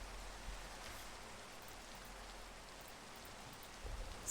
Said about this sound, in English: Can we sleep away this rain?